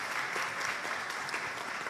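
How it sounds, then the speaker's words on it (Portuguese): Sustained audience applause at a round-table session of the 2016 ACM week, dense and steady clapping from a seated crowd filling the whole moment without any voices. "uma grande salva de palmas para a ACM"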